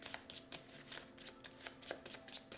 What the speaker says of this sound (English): I'm getting so good at shuffling.